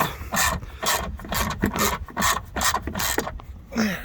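Long front bumper bolt on a BMW E39 528i being turned out, a steady run of rasping, ratcheting clicks and scraping metal repeating in uneven bursts, close up with no talk.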